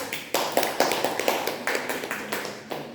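A group of new students claps at a leadership training session, sharp overlapping hand claps in a brisk, steady patter close by, lasting a few seconds with no talking.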